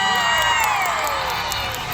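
A large crowd cheers and shouts for event organizers at a community gathering, a loud dense roar of voices with whoops and scattered claps, sustained throughout and close.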